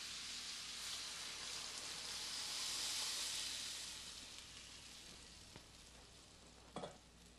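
A steady loud sizzle and hiss from a hot pan searing pork shoulder, swelling then easing as Cabernet Sauvignon and chicken stock are poured in, with a couple of clanks near the end.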